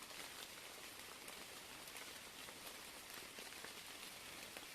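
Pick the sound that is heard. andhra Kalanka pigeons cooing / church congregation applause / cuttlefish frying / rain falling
rain falling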